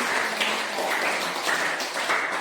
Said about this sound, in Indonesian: Mari kita juga tepuk tangan.